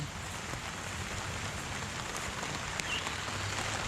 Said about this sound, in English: we've had some heavy rain already today from this storm